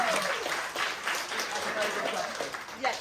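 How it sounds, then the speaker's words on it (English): An audience at a railway fan meetup Q&A claps steadily for a few seconds, a dense patter of applause close by that carries on without a break. "So a big round of applause."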